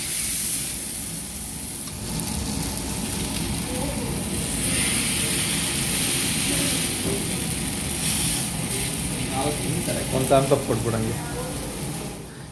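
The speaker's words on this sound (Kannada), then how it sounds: "ಕಾದಿರೋ ತವಾ ಮೇಲೆ ಫಿಶ್ ಹಾಕ್ತಾ ಇದ್ದರೆ ಚಟಾಪಟ ಚಟಾಪಟ ಒನ್ಸ್ ಮೋರ್ ಅನ್ಬೇಕಷ್ಟೆ" Fish sizzles on a hot tava in coastal style, a steady hissing fry with scattered crackles and spits growing busier toward the end.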